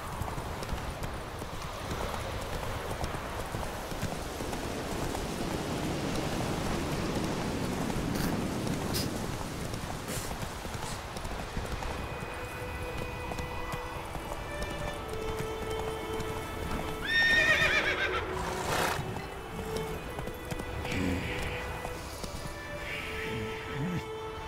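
A horse gallops in The Witcher 3, steady rhythmic hoofbeats at moderate volume, then a whinny breaks in near the end over light background music.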